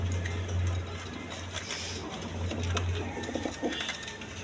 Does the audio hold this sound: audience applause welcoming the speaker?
no